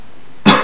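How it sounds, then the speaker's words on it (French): A single sharp, loud cough bursts out close by after a quiet moment, from someone who is feeling ill and running hot. "je tousse"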